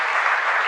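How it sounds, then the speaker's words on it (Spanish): Brief, dense applause from the congregation during a live Mass at a parish church, a steady wash of many hands clapping together with no voices on top. "un fuerte aplauso"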